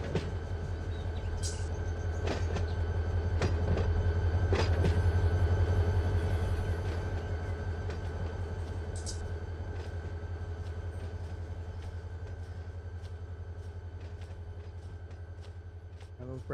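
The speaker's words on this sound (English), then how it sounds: "Now my locomotives are backwards. This is the lead locomotive, so I'm in reverse right now." A diesel locomotive in the Run 8 train simulator runs in reverse, its steady engine drone and low rumble holding throughout, with faint clanks and brief hissing bursts over it.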